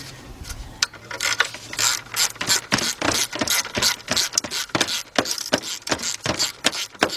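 A ratchet clicks rapidly in bursts while backing out a long alternator bolt on a 1977 Buick LeSabre, loud and close, with short pauses between runs of sharp metallic ticks.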